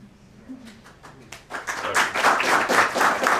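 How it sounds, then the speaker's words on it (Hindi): An audience at a Hindi-language talk breaks into applause after a quiet, murmuring start, the clapping swelling into a dense, loud, steady patter. "और तालियां हमारे लिए नहीं, अपने लिए भी बजाया करो"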